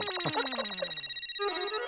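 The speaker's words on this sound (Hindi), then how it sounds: "जोशी काकांचा फोन है।" A telephone rings in a home with a bright electronic ringtone, a quick warbling melodic pattern played once at moderate level with no voices over it.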